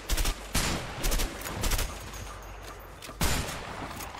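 Automatic rifle fire in A Way Out comes in loud, close bursts with short gaps between them, followed by a sustained rattling stretch and a final burst.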